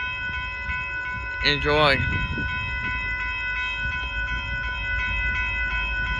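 A northbound Union Pacific auto train passes at a road crossing in Austin, Texas, as a steady, continuous rolling rumble with tonal squeal lines, while a voice briefly speaks near the start.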